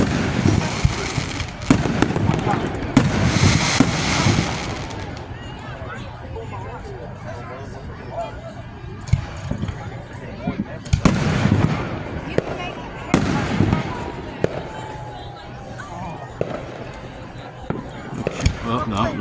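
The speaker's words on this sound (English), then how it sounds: "Let's keep shooting fireworks at that cloud and make it go away." Fireworks shot off at an outdoor show in Booneville, with repeated booming bursts and crackles at irregular intervals, some loud and near, others more distant, while people talk throughout.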